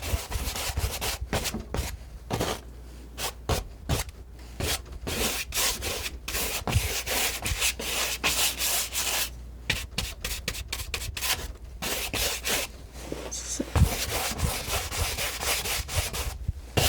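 A palette knife scrapes and rubs oil paint across canvas in a steady run of close, soft, dry swishing strokes with brief pauses, quiet and intimate with no voices.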